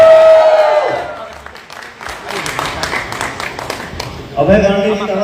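A crowd at a live Bhojpuri music stage event breaks into clapping after a voice finishes speaking, scattered claps building in the middle before a voice returns near the end.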